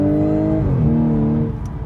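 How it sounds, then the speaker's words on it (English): An Audi S5 Coupe engine revs up and pulls hard, a loud, steady roar with rising harmonics that shifts pitch midway as it accelerates, up close and with no talking. "And then I just hit the gas pedal and it goes"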